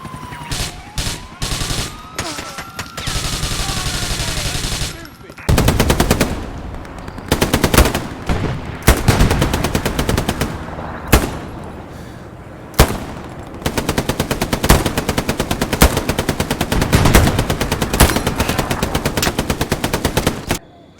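Video game shootout with loud rapid machine-gun bursts and single gunshots in choppy clusters, a wailing police siren sweeping through early on and dense sustained fire later.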